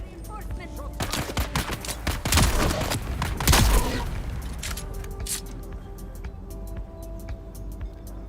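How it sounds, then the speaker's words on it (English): Video game gunfire, a dense volley of sharp shots and bangs that peaks in the middle and then thins out to scattered cracks over a humming background. "Someone's firing."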